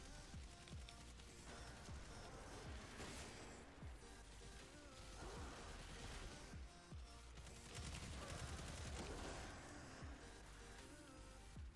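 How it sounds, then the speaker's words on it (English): Rapid bursts of submachine gun fire from the video game Destiny, loud and close, with sharp repeated shots and crashing impacts layered over a dense, busy game soundscape throughout. "I love this little machine gun, this like submachine gun I have"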